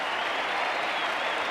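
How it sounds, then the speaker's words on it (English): Cricket crowd at the Sydney Cricket Ground during a Test between Australia and South Africa, a dense, steady wash of applause and cheering from a large stadium audience, sustained without a break. "Listen to the crowd."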